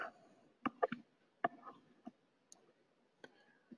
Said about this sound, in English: And we'll click OK to open it.